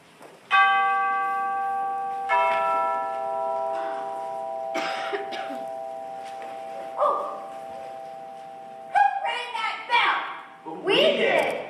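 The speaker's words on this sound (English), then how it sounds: "Ring the bell, Scarecrow." A bell rings in a high school stage production of The Wizard of Oz: two clear, sustained chimes with long ringing tones, then voices of the cast talking and reacting over the fading ring.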